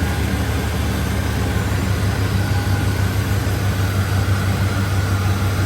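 A GMT400 Chevrolet Silverado truck engine idles smoothly, giving a steady, fairly loud low hum and rumble that holds constant the whole time, with no talking.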